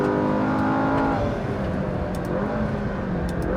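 A McLaren 650S sports car is driven hard on a race track, its engine giving a loud, continuous roar that drops in pitch at a gearshift, then keeps pulling strongly.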